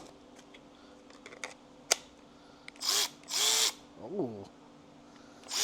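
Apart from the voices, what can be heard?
electric ratchet running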